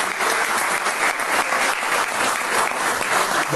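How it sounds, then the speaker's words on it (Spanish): Steady, full applause from an assembled crowd at a gathering about the history of Batán Grande, honoring the Sicán people present, sustained and fairly loud throughout without pause. "un aplauso para ellos"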